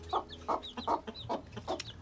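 Newly hatched chick peeping, with about five short calls in two seconds, each a soft burst paired with thin high chirps. The calls come at a steady pace, close and fairly quiet, with no talking.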